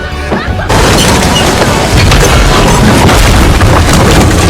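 Cannon fire and a heavy explosion from the One Piece live-action series burst in loud and booming after a quieter lead-in, sustaining a dense roar.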